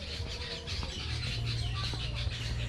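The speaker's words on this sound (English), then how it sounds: "I hear a lot of birds." Birds call outdoors in Samoa, a dense, steady chorus of overlapping chirps and twitters set against a low, constant rumble of background noise, with no talking.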